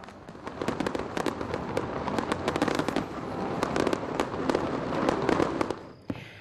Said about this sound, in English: revellers enjoyed the country's largest fireworks display